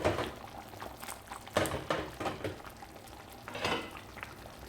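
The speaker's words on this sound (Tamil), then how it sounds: "பாத்திரத்தை இந்த மாதிரி சுற்றி விட்டால் போதும்." A pot of simmering lentil ball curry (paruppu urundai kuzhambu) is swirled by hand, giving soft sloshing and gentle bubbling with a few louder liquid swishes, close and fairly quiet.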